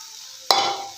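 Roasted capsicum being stirred into a curry in a pan, a single sharp scrape and clatter of the spoon followed by a brief sizzling rush that fades over the next half second.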